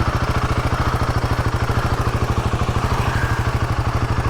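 A Royal Enfield Himalayan 450 motorcycle runs nearby with a steady, evenly pulsing engine throb and mechanical clatter, loud and continuous throughout.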